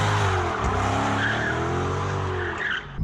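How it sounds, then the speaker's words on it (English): Mercedes E63 AMG sedan with a 6.2-litre naturally aspirated V8, driving with tire squeal and engine roar, loud and close for about three seconds. "It is arguably the best sounding Mercedes V8 ever made because of the high compression NA."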